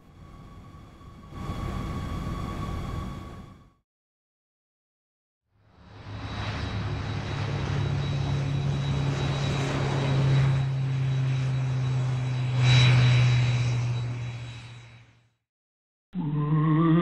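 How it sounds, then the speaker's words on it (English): A jet airliner flying overhead, heard as a loud, broad roaring rumble that swells and fades over several seconds after an earlier shorter burst, with a brief gap of silence between. "Jet airliner."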